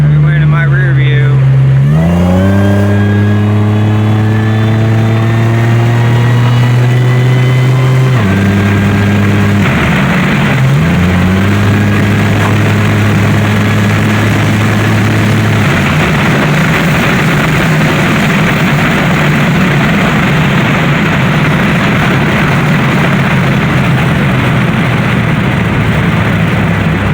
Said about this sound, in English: Car's running really good right now.